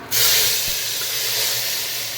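Garlic dropped into hot oil for tempering, a sudden loud hiss of sizzling that starts abruptly and holds steady and close.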